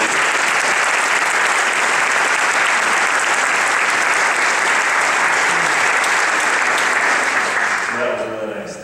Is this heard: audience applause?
yes